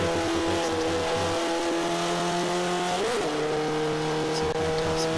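Race car in Forza 5 driving at speed, a sustained high engine whine with a pitch swoop as it shifts or brakes, steady and close throughout.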